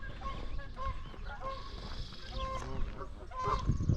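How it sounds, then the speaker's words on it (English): Geese at a migratory bird sanctuary honk repeatedly in overlapping calls, fairly near over quiet outdoor background. "Don't ever mess with these geese."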